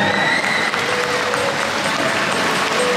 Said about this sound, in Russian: Лично я аплодирую сегодня